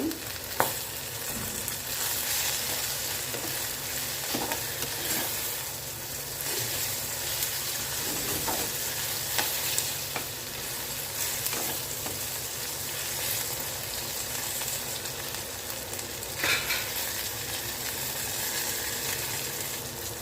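Green chillies sautéing in a pan for a tangy tamarind chilli dish, a continuous crackling sizzle with occasional scrapes of stirring throughout, no voices.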